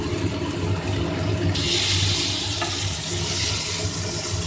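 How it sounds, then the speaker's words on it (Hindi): Tomato paste frying in a pan for chana matar ghugni, giving a steady close sizzle with soft stirring scrapes throughout and no talk. "टमाटर पेस्ट भून लिए हैं"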